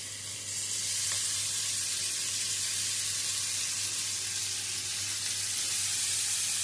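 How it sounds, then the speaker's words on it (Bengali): Chicken sizzling and frying in a pan with shrimp for a quick mixed rice lunch dish, a steady, close, continuous hiss with no talk. "এর মধ্যে দিয়ে দেবো চিকেনটা।"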